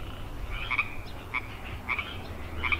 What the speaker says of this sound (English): Here goes the frogs.